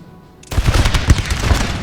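Napoleonic musket volleys and cannon fire from Napoleon Total War with Prussian forces open abruptly after a brief quiet, then roll on as a loud, continuous crackling barrage.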